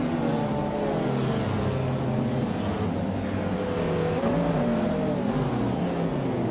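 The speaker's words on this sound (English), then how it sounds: "the race kicks off at the LEGO Speed Champions track. Nuts is on pole and he's driving a 2004 Vauxhall VX 220 Turbo" A 2004 Vauxhall VX 220 Turbo races in LEGO Speed Champions, its engine droning and rising and falling in pitch as it accelerates, steady and loud throughout, with other race cars nearby.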